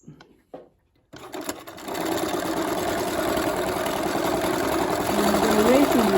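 Sewing machine running at a steady, fairly fast pace as it stitches across open spaces to form flower designs, starting after a few brief clicks and continuing as a loud, even motorized hum.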